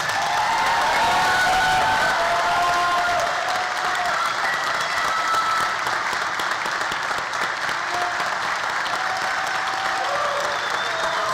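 Sustained, steady applause from a commencement audience honoring a graduating class at Clarkson University, a broad wash of clapping with a brief whistle or cheer layered in, no speech over it.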